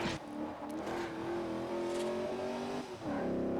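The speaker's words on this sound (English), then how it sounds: "Listen to that engine." A video game car engine in Forza Horizon hums and revs steadily at a sustained pitch, briefly dipping near the end before climbing again, with no voices.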